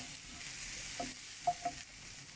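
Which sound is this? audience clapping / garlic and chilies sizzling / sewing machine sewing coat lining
garlic and chilies sizzling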